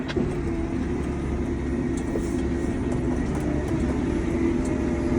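Car cruising along a road, heard from inside as a steady, loud engine and road drone with constant tyre rumble and no voices.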